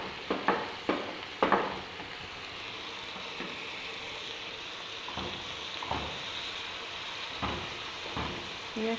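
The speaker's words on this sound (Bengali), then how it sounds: "পেঁয়াজটা তাহলে ভাজা ভাজা হয়ে যাবে" Onion frying in a pan, with a soft steady sizzle beneath a few sharp clanks and scrapes of a utensil against the pan at the start and scattered stirring knocks later on.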